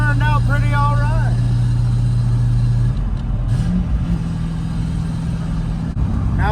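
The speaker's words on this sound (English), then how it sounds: "Oh, that exhaust sounds good." A Ford Thunderbird's exhaust rumbles in a loud, steady low drone while it drives, with slight swells as the engine revs, and a voice talks over it at the start.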